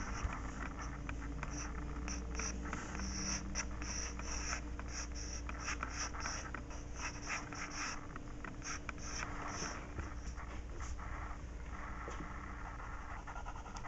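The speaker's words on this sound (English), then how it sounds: "here I'm using the side of the pencil to kind of shade and describe the form of the arm" Graphite pencil rubbed sideways across paper to shade a figure's arm in a sketch, a steady close scratchy rasp with uneven strokes running throughout, no talking.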